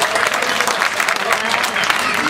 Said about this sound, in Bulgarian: Много скромни аплодисменти